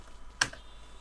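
A single short click from a computer keyboard, sharp and close, standing alone in quiet room tone.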